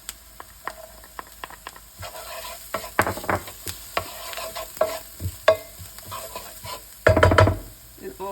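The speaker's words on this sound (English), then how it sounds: "Now add in the garlic." Garlic hitting a hot pan of browning ground beef brings a continuous sizzle broken by frequent scraping, stirring clacks of a utensil, with a louder burst of frying near the end.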